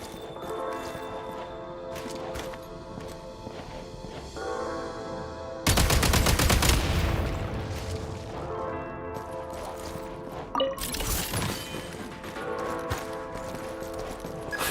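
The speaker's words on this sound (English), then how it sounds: "Shoot the explosives to detonate them and clear the path." Gunshots and explosive detonations in Genshin Impact, a sharp loud blast followed by a rumbling decay, then another burst later, over a steady game music bed.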